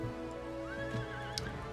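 A horse mount from the video game Final Fantasy XIV: A Realm Reborn gives one rising, whinnying neigh over a steady synthetic game background, with a brief clip-clop of hooves, no talk.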